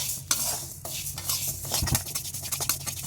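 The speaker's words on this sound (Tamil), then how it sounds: "இப்போ நம்ம இந்த உளுந்தை கொட்டி நல்லா வறுத்துக்கலாம்" Black urad dal stirred and dry-roasted in an iron pan, with steady scraping and gritty rattling of the grains against the metal, plus a light sizzle that carries on throughout.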